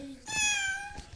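A house cat gives a clear, close meow, a drawn-out tonal cry lasting nearly a second, with faint voices and room noise around it.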